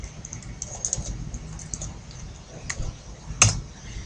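Light computer keyboard typing, a sparse run of soft clicks with one sharper key tap near the end, close and quiet over a low background hum.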